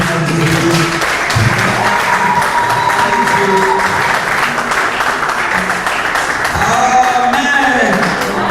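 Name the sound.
church congregation applauding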